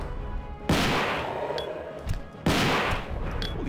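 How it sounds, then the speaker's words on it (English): Two loud, close gunshots in Biohazard 2 ring out about two seconds apart, each a sharp blast with a long reverberant tail. "Takes a lot more gunshots."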